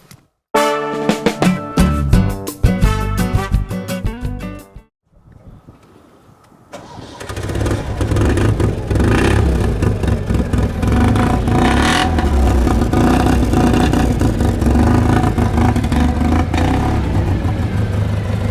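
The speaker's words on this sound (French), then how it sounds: "Quand elles sont froides, elles ont tendance à brouter un peu au démarrage" A vintage Panhard PL17 engine starts cold: a rhythmic cranking stutters for several seconds, falls briefly quiet, then the engine catches and runs loud and steady, close by.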